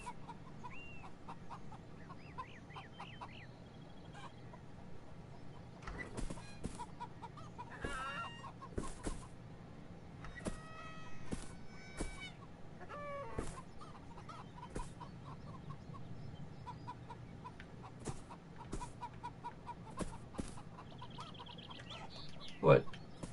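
Chickens cluck and squawk in the video game Beyond Eyes, a steady scatter of short calls and chirps over a low ambient game bed, with a sharper cry near the end.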